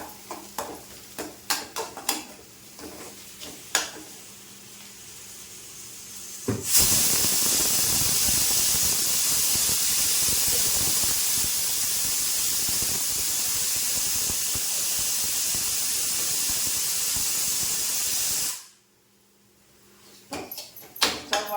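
Ridge gourd and tamarind hit a hot pan for Tamil ridge-gourd chutney and sauté with a sudden, loud, steady hiss that holds for about twelve seconds, then cuts off abruptly, with faint clatter before and after.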